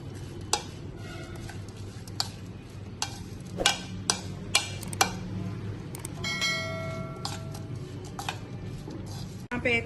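Green chilies are mixed with salt and lemon juice for a quick pickle, making sparse, faint clicks and taps of a spoon against a bowl over a soft background hum.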